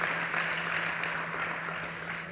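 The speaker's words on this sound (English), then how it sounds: "you take away this wonderful applause from our stage here" An audience at a startup pitch competition on a conference stage gives sustained applause, a dense even wash of many hands clapping at moderate distance with no voices over it.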